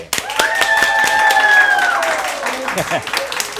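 An audience claps and cheers for Harry Morley, a school bus garage worker being welcomed as a graduate, with steady applause and a few whoops for about three seconds, tapering off near the end.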